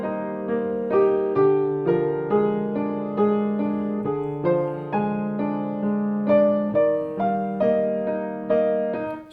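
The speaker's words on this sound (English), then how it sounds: "So that's her music when she starts her dance" Orchestral recording of the ballerina's dance music from Stravinsky's Petrushka, a steady, evenly pulsed melody over sustained low notes with regular accented beats, full and clear with no talking.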